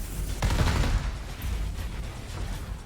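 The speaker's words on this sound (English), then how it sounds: "Oh, those Gauss cannons are so chunky." Gauss cannons fire in the space strategy game Sins of a Solar Empire 2, a dense, chunky barrage of overlapping booms and rumbling impacts that swells early and keeps rolling throughout, with nobody talking.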